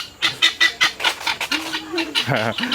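A chicken squawks loudly and repeatedly up close in quick rhythmic bursts, then breaks into a wavering, drawn-out screech.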